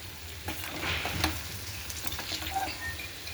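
Okra vegetable curry being stirred in a hot frying pan, steady sizzling of frying food with scraping and clinking of the spoon against the pan, close and fairly soft.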